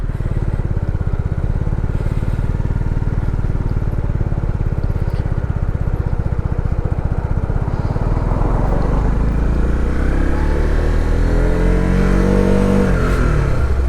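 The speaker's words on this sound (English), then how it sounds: "Now this car's going to come." A car approaching along a road, heard from a learner motorcyclist's position, rising steadily over a continuous close engine rumble and wind noise, with a clear pass-by sweep near the end.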